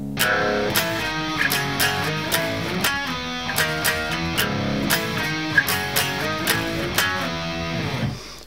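Distorted electric guitar playing a chorus, dense chugging chords with sharp accents and steady driving rhythm, loud and continuous with no voices.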